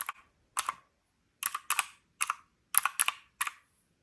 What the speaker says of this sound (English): it does have the clicky buttons